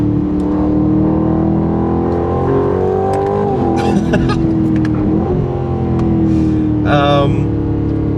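An Aston Martin Vantage S on a Black Forest drive, its engine note rising and dipping through gear changes, close and continuous, with a few clicks and a short whine over the steady drone.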